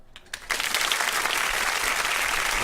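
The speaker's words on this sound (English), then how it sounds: "trying to give him a round of applause" A live radio-show audience bursts into applause after a quiet start, the dense clapping rising quickly and holding steady and loud to the end.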